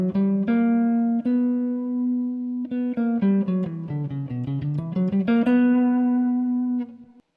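A guitar runs through the B harmonic minor scale with its raised seventh, plucked notes climbing and descending in a quick, even sequence with a few held tones at either end, close and clean with no talking.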